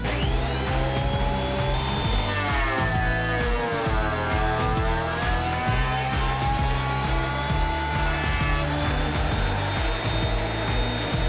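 DeWalt DW733 benchtop thickness planer taking a 0.5 mm pass on a board, a loud steady roaring whine with a rising and falling cutting tone as the wood feeds through, constant and close, with no speech.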